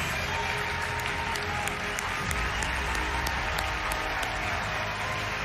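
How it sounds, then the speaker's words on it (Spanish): Studio audience on Got Talent Argentina applauds loudly and continuously, a thick, even roar of clapping hands filling the room throughout with no pause. "Fuerte el aplauso para ellos."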